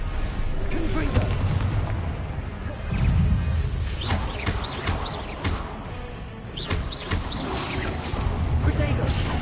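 Confringo explosive spells cast in Hogwarts Legacy, a string of loud booming blasts and crackling impacts mixed with other combat effects, continuous and dense throughout.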